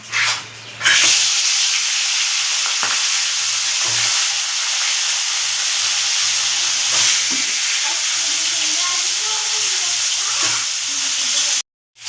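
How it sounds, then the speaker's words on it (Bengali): Fish heads fry in hot mustard oil in a wok with a loud, steady sizzle and crackle that runs unbroken for several seconds, then cuts off abruptly at the end. "তেল গরম হয়ে গেছে, এবার মাছের মাথাগুলোকে ভেজে নেব।"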